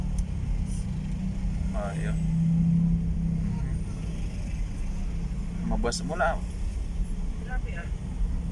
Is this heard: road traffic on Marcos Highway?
yes